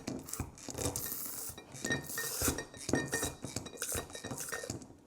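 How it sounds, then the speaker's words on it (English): A metal spoon stirs syrup into iced coffee in a glass, giving steady clinks and scrapes against the glass and ice at close range with no talking. "I'm gonna use a spoon to stir it up so that you can see."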